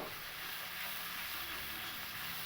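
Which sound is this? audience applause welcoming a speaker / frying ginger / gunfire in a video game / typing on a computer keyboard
frying ginger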